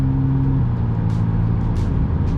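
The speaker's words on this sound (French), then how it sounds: "Et là, hop, le moteur se rallume." A McLaren Artura plug-in hybrid's petrol engine restarts after running in all-electric mode, giving a low steady hum with a slight shift in tone, heard from inside the car.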